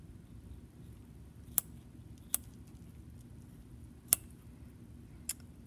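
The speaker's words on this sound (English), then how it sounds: "Maybe I'll get some scissors." Scissors snipping through cow eye tissue during a dissection, four sharp, faint, isolated clicks spread unevenly over a quiet background.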